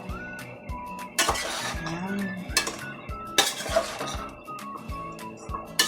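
Food in a cooking pot, softened in its own oil, is stirred with a utensil, giving rhythmic scraping strokes and metallic clinks against the pot at close range.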